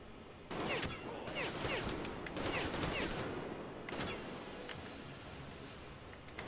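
Dense, sustained enemy gunfire from Metro Exodus, a rattling volley of rapid shots and bursts running throughout at steady loudness, with a few louder cracks standing out.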